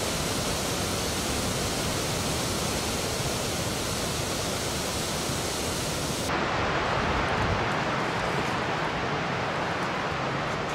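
Gullfoss, a huge glacial-meltwater waterfall in Iceland, roars steadily as dense broadband rushing noise, loud and continuous, with a shift in tone partway through as the spray and wind change.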